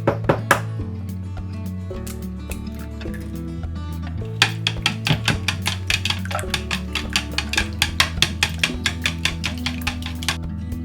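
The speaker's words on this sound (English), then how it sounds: "Crack eggs into a bowl and beat them lightly." A whisk or fork clicks rapidly against a bowl, beating eggs in a quick steady rhythm of close, light taps.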